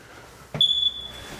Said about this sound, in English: That is just the fire alarm going off.